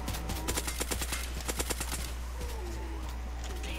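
A turret in a Roblox zombie game fires a rapid, evenly spaced volley of sharp shots for about two seconds before falling silent, set over a steady low game hum.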